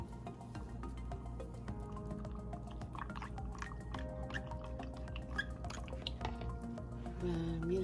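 Starch dissolved in cold water being stirred with a spoon for a stew, faint liquid swishing and small drips mixed with light clinks, soft and close in a quiet kitchen.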